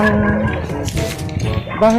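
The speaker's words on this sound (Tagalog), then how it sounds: "Yung Doberman tumatahol." A Doberman barks and yips a few times at close range beside a riverside home in Pangasinan, while a person talks over it.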